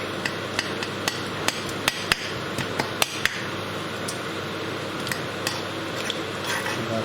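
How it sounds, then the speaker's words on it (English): Chicken wing curry ingredients stirred in hot oil, a utensil clinking and tapping against the pot in irregular sharp knocks over a low steady sizzle, no talk. "Stirring."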